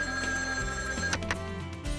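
A cartoon telephone rings in a shrill repeated electronic trill, loud and close, with a few short bursts and no talk over it.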